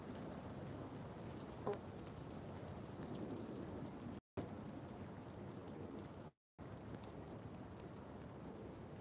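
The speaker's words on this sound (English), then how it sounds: "Hallelujah, it's raining." Steady rainfall hisses continuously, soft and close, broken by two brief moments of silence.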